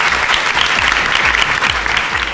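Audience applause at a university campus event fills the clip as loud, dense clapping from a crowd, steady throughout with no talking over it.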